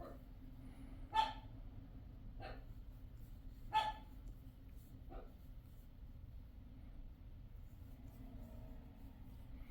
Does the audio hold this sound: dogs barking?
yes